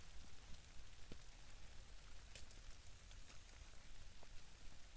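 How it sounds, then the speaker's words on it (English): Light rain patters steadily around a lean-to shelter at a camp, a soft continuous hiss with scattered faint drips and no voices. "Slight rain coming down."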